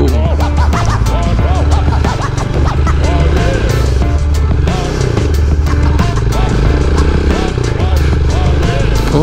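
A RUSI Classic 250i motorcycle is ridden. Its engine throbs loudly and close by, with a rough, pulsing note and gear-change variations, and a rider speaks over it at times.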